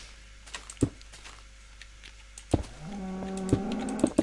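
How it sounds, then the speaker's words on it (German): A cow moos in the block-building game Minecraft, a single low drawn-out call with a few clicks and keyboard taps around it, fairly quiet. "Und da steht eine Kuh. Hallo Kuh."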